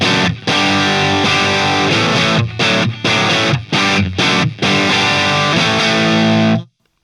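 A Dr. Z Remedy amp pushes an electric guitar into a thick, saturated crunch, with loud sustained chords broken by several short stops and a final ringing chord that cuts off abruptly.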